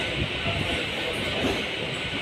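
A train rolls into a railway station in Hyderabad, a steady loud rumble and rattle of wheels and carriages filling the whole stretch without a break.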